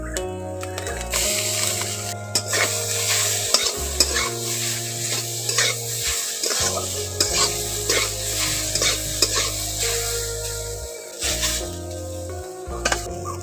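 Water chestnuts with turmeric, chopped ginger and green chilli fry in a pan, a constant sizzle broken by repeated scraping stirs and clanks of the spatula, loud and close.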